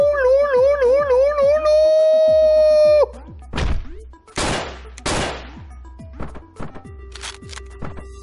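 Video game gunfire from Hotline Miami: several sharp, loud broadband blasts crack out in a quick burst over a pulsing synth soundtrack with a repeating low beat.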